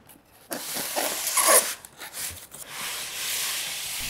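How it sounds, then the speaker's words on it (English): A cardboard carton for a 34-inch monitor being opened, with close ripping and tearing of packaging and a brief sharp zip-like rip near the start, followed by rustling handling. "Opening up the actual carton for the packaging"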